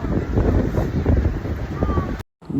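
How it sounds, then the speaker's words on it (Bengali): Strong wind on a sea beach at Tajpur buffets the microphone with a steady roar, blending with the wash of sea waves, then cuts out briefly near the end. "অসাধারণ হাওয়া, সমুদ্রের আওয়াজ তোমরা শুনতে পাচ্ছ।"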